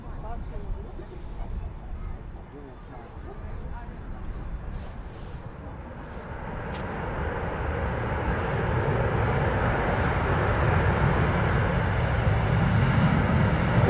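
A Ryanair plane lands in a crosswind on runway 23 right at Manchester Airport, its engine roar starting faint and distant and building steadily louder, with people talking throughout.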